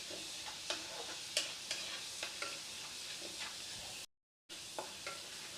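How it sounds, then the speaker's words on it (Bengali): Chopped garlic and black cumin sizzle steadily in hot oil in a home kitchen while a spoon scrapes the pan at a regular pace, with one brief dropout near the end. "দেখুন রসুন ভাজা ভাজা হয়ে গেছে"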